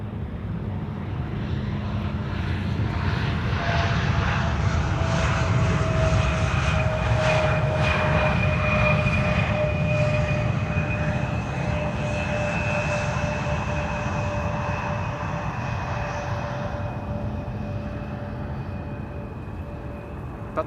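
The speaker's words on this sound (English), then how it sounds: "This is KLM flight 964, arriving from Teesside or Darlington." A KLM Embraer 175 airliner arriving at Amsterdam Schiphol roars steadily overhead, its engine whine holding a sustained tone that swells and slowly fades over about twenty seconds.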